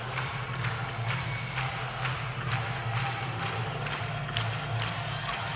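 Gymnastics arena crowd cheering during a men's floor routine at an Arkansas meet, a steady, dense roar of applause and shouts sustained throughout, with a low rumbling hum underneath.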